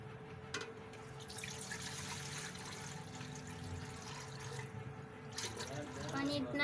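Water is poured into a cooking pot in a kitchen while preparing mutton karahi, a continuous mid-level splashing pour under a steady background hum, swelling louder near the end.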